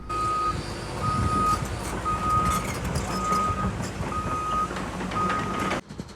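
Reversing beeps from a construction vehicle at a building site repeat in a steady rhythm of evenly spaced tones, moderately distant, over rumbling engine and site noise, then stop abruptly near the end.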